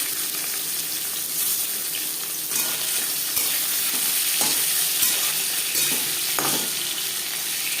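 Marinated pangas fish pieces sizzle steadily in three spoons of hot refined oil, a continuous loud crackling hiss with occasional sharper pops and scrapes as the pieces settle in the pan.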